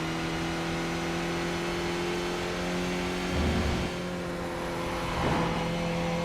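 A racing video game car's engine hums in a steady, sustained drone with two brief swells in pitch as it revs up, heard fairly close with no talking over it.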